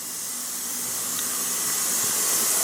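A spray gun lays 4-to-1 high build primer onto the body of a 1929 Chrysler, a steady close airy hiss that swells slightly over a few seconds with no talking.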